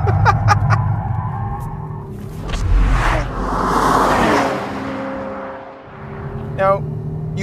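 Turbocharged Porsche Panamera engine revving and accelerating in surging swells, a close, fairly loud rise and fall with a whooshing pass in the middle and a brief sharper whine near the end.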